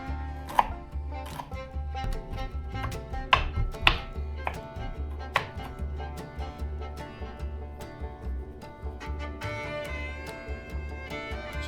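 A knife chops a garlic clove finely on a board, a fast run of crisp, close taps in an uneven rhythm, some strikes sharper than others, with no talking.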